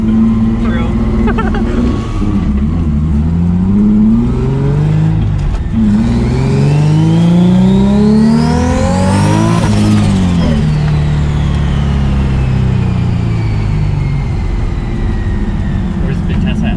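A car engine revs up through rising gears, the pitch climbing and dropping with each shift, loud and close from inside the vehicle.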